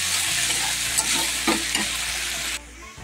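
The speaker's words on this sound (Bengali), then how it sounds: "এবার আমি কটা কাঁচা লঙ্কা চিরা ছিল সেগুলিকে কিন্তু এখন দিয়ে দিচ্ছি। তো দিয়ে এবার এগুলিকে একসাথে ভাজবো।" Potatoes and slit green chillies fry together in a hot pan for banana-flower curry, giving a steady close sizzle with a few stirring scrapes and spoon clinks, ending abruptly.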